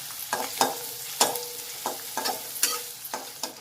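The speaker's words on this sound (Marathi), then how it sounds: "हा कांदा चांगला व्यवस्थित परतून घ्यायचा आहे" Onion being sautéed in a pan, a soft steady sizzle broken by sharp scraping stirs about every half second, close and moderately quiet with no talk.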